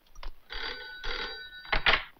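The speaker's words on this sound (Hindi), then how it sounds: "घंटी बजने का आवाज किधर से आता है?" A telephone bell rings in two long bursts, followed by a couple of sharper clatters, close and fairly loud, with no talking.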